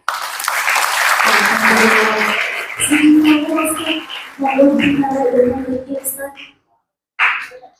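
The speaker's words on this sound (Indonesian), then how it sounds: "Tepuk tangannya." Applause from an audience at a Qur'an gathering, with clapping in the background and a voice speaking over it in bursts; the sound fades out before a short final burst.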